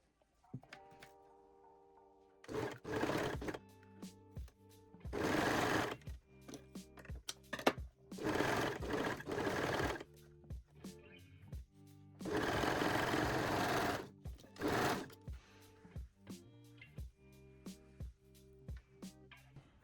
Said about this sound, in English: Then pin and sew the front crotch seam.